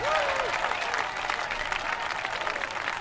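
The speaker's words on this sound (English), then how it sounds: "So let's hear it for this year's winners. 3 cheers for the Harvest Champions." A festival crowd in the video game Neverwinter Nights 2 applauds the harvest champions with steady, loud, continuous clapping that holds for several seconds, and a brief whistle rises at the start.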